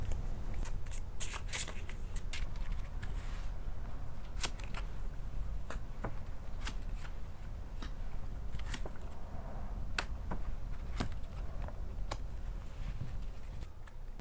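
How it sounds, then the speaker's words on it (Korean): Lenormand fortune-telling cards being shuffled and drawn by hand during a tarot-style reading, a steady papery riffle with sharp repeated snaps and flicks of card edges throughout, close and fairly quiet with no talking. "이렇게 레노먼드 카드 뽑아봤는데"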